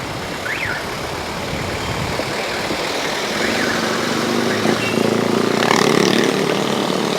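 Busy street traffic on McArthur Highway in Mabalacat, Pampanga: a steady roar of engines and passing vehicles, with faint horn-like tones and a slightly louder swell of traffic noise toward the end.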